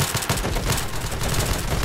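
Rapid automatic gunfire crackles in a Roblox shooter game, a dense fusillade of overlapping shots that continues steadily and loudly for under two seconds with no talking.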